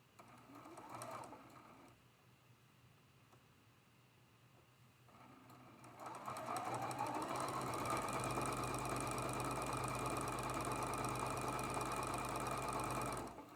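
A sewing machine chain stitching quilt fabric pieces, with a quiet mechanical hum at first and then a loud, fast, steady stitching run that continues for the last several seconds.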